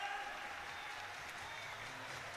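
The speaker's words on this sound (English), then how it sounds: "The crowd starts to pick up here." Crowd applause at a women's bouldering qualification round at the IFSC Climbing World Cup in Munich, a steady, moderately loud wash of clapping and crowd noise throughout, with no distinct cheers standing out.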